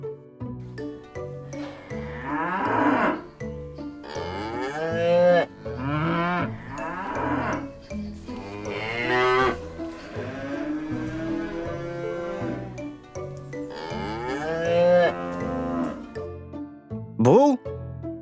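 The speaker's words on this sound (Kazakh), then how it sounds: "Бұл сиыр." Cow mooing, several long, drawn-out lowing calls with tonal rise and fall, close and prominent, with a voice and talk mixed in between calls.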